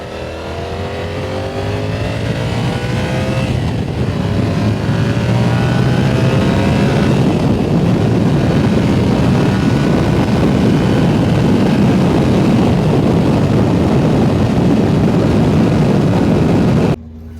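Yamaha R7 sport motorcycle ridden at steady throttle, its engine a loud, continuous drone rising in pitch early on and then holding, with heavy wind rush throughout, no talking.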